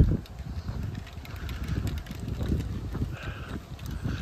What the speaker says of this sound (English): now we're going right into the wind